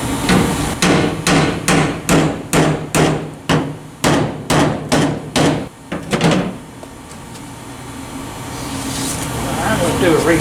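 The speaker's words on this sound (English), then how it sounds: "Now I'm just going to take a basic hammer and tap them in slightly." A basic hammer taps something in: about a dozen sharp, evenly spaced strikes in quick succession, then a pause and two more, followed by a low steady hum.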